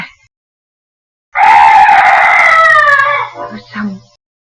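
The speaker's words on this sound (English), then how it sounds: "Oh, some night bird." A single loud, drawn-out bird cry, harsh and wavering like a crowing call, rising out of silence and fading into a few shorter trailing notes.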